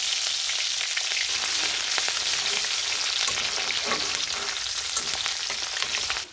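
Two small chopped onions frying in mustard oil with cinnamon pieces, a dense continuous sizzle with faint stirring scrapes, steady and close from start to finish.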